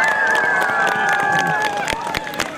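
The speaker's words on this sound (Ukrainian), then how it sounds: "Ваші оплески!" A crowd at the city Christmas tree opening in Lviv applauds and cheers in a dense, sustained wash of clapping, while a loud tonal whistle or music line runs over it and voices murmur beneath.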